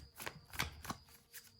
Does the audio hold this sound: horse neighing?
no